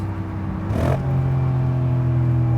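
A Mercedes SL500 V8 gives a quick rising rev blip on a downshift, then settles into a steady, close, smooth low drone with no voices.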